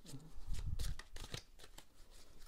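Tarot cards being shuffled by hand in a quick riffling, slapping series of papery bursts, close and fairly loud, with no talking.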